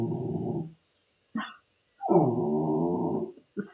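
A puppy growls in low, rumbling bursts broken by short sharp barks, close and fairly loud, with brief silent gaps between the outbursts.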